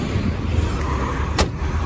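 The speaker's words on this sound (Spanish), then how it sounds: "Voy a cerrar el capó." The bonnet of a BMW 325 E30 Cabrio with an Alpina B3 engine is shut, a single sharp slam standing out against steady background noise.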